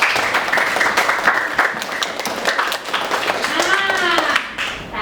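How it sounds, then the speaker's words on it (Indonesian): A small group of schoolchildren claps in applause in a classroom, a brief burst of rapid hand claps close by, mixed with children's voices talking over it. "Tepuk tangan dulu kelompok mandiri."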